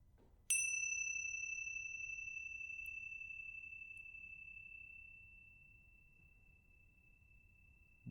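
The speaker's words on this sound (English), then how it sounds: "And I'll begin and end the meditation with a bell." A meditation bell is struck once, giving a bright ring that sustains and slowly fades over several seconds in an otherwise quiet room.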